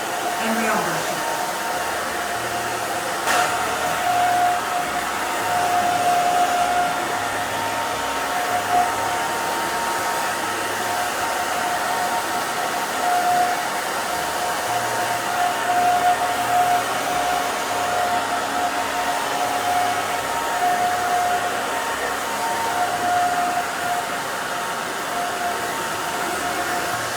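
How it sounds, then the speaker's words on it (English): A hair dryer blows steadily and loudly up close while a pixie haircut is dried with a round brush, a continuous whooshing drone that barely varies over the whole stretch. "now I'm going to use the round brush, but we are going to dry"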